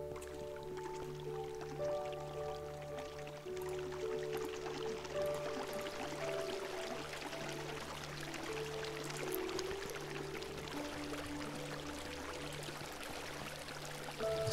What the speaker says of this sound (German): Hauen einfach das Wasser in die Ecken.